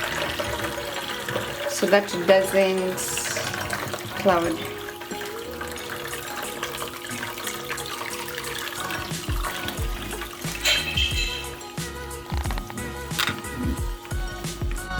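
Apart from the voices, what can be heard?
cold water poured over cooked spaghetti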